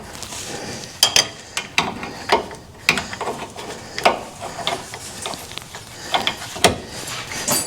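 A hand ratchet tightens a bolt coated in red Loctite on the slider box of an FSJ Jeep long-travel suspension. Crisp, close clicking comes in short, uneven bursts with brief pauses between pulls.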